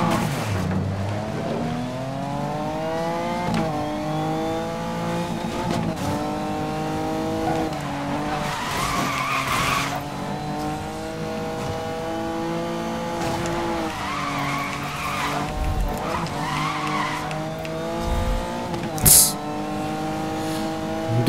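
Tires squeal and skid as a BMW drifts through corners in the racing game Need for Speed Most Wanted (2012), layered over a steady revving engine drone, with a player talking throughout.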